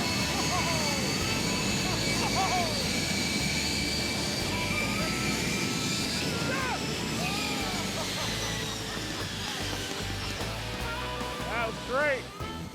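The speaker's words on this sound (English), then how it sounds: "From zero to hero, the jet soon reaches full throttle" Jet engine strapped to a car roaring at full throttle, a loud broadband blast with whistling tones that holds for several seconds, accompanied by voices and shouts as the car is propelled away.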